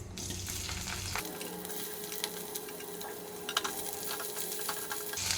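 Bitter gourd fries with fenugreek seeds in hot oil, giving a steady close crackling sizzle with occasional sharper pops and a faint stir, continuing throughout without speech.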